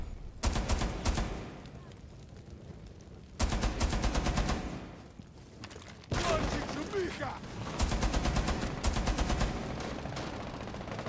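Gunfire in Rainbow Six Siege comes in loud, close bursts of rapid automatic shots, three separate volleys split by short pauses, with mechanical clatter between them.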